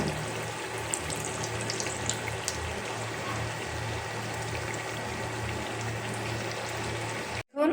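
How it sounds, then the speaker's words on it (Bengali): Flour-and-coconut pitha cakes deep-frying steadily in hot oil, a continuous close, even bubbling sizzle with no voices over it. "আমার সব পিঠাগুলো আস্তে আস্তে আমি ভেজে নিচ্ছি"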